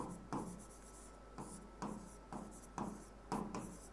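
Chalk or marker writing on a board during an Indian polity lecture, steady scratchy strokes in repeated short bursts about half a second apart, close and clear with no talking.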